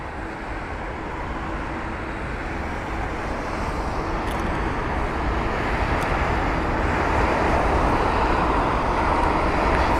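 Aircraft taxi at London Heathrow, a broad, distant rumble of jet engines that swells gradually into a louder roar.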